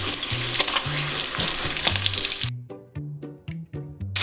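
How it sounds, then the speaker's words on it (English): Bacon renders in a hot pan with uneven heat, crackling and sizzling loudly for a couple of seconds before the sizzle cuts off, leaving scattered pops and ticks against a quieter background while a tonal hum runs underneath. "See that? How it's rendering into the pan?"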